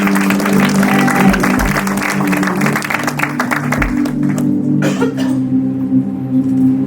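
Applause fills a church conference talk show as the audience acclaims God, a steady dense clapping with some crowd noise that tapers off near the end.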